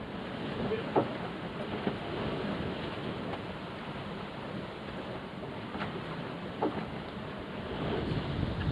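Steady wind blows across a small sailboat under way, a continuous broad rushing roar with occasional soft thumps and splashes, unbroken throughout.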